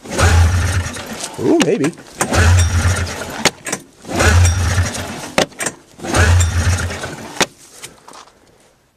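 An engine, likely out of fuel, is cranked four times in repeated bursts of starter churning, each ending without catching, with brief pauses between; a man mutters a few words in between.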